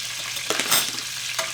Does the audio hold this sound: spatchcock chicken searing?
yes